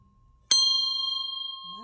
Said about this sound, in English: I'm about to ring the bell.